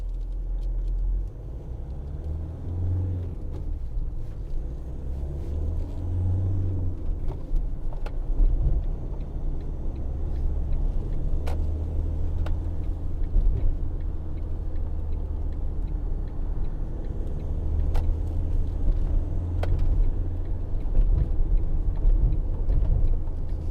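A 2012 Ford Transit 2.2 TDCi 260 medium van drives along a road: a steady low diesel engine drone and road rumble continue throughout, heard from inside the cab, with occasional faint ticks and no talk.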